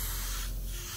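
A Grex XGi2-ES airbrush sprays a broad, steady hiss for about a second, loud and close with no talking.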